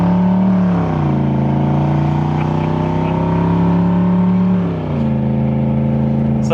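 Jaguar XJ8 V8 driving with its entire exhaust removed, a loud, close, continuous droning roar that shifts pitch through gear changes, with no talking.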